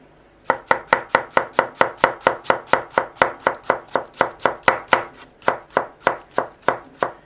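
A Yoshimi R2 knife chops a very ripe tomato again and again in the same spot, making about two dozen crisp, evenly spaced cuts in quick succession, loud and close.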